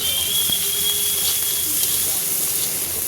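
Panch phoron whole spices sizzle in hot oil in a home kitchen while cooking a Bengali fish curry, giving a steady, bright hiss and crackle close by with no pauses.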